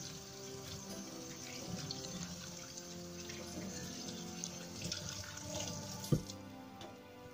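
Hands are washed under a running tap, a faint, steady splash of water into a sink with small shifts in the flow and one brief knock near the end, with no talking.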